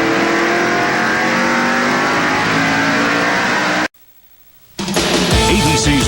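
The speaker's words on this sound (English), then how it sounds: "So we're underway here with the NASCAR SuperTrucks." NASCAR SuperTrucks racing at Mesa Marin, a loud sustained engine roar from a pack of trucks at speed, cutting out abruptly to near silence for a moment before the roaring returns.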